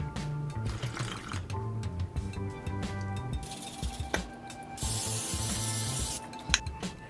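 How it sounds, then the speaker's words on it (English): Cooking spray hisses from a can onto a pan for a breakfast burrito, one steady spray of about a second and a half amid soft kitchen clatter. "I typically use cooking spray instead of oils or butter, just to reduce some of the fat"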